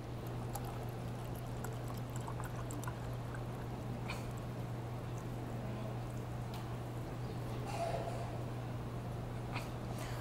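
Cold water dyed blue pours steadily into a container split down the middle by a divider, a continuous faint trickling over a low steady hum.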